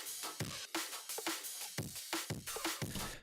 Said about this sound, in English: So it's basically just a really crashed version of the drums.